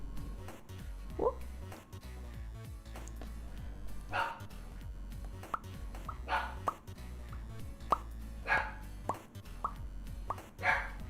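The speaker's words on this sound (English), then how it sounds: "my puppy's so loud today." A puppy barks loudly over and over in short, sharp yips spread through the stretch, close by and mixed with background talk.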